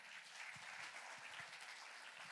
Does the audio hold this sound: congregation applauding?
yes